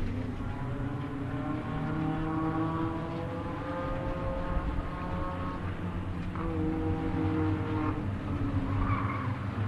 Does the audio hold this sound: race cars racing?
yes